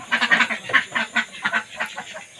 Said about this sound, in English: so many ducks available at this farm